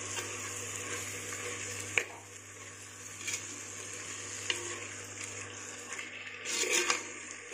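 Steady soft sizzling as millet vegetable pulao is stirred in a hot pan, with a few scraping clacks of the spoon against the pan over a low background hum, and no talking.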